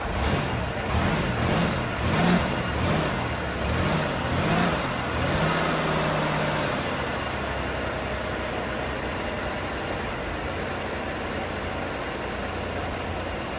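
A Buick Reatta car engine runs steadily, with a few rhythmic revving pulses in the first five seconds before settling into a continuous, moderately loud idle hum.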